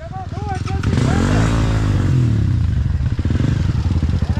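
Two Honda CRF 230 dirt bikes arrive through woodland, engines loud and close, revving and clattering steadily for several seconds while people talk over them.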